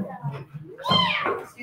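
A person's voice imitates a cat's meow: a single drawn-out, rising-then-falling meow, close and fairly loud, with no other sound around it.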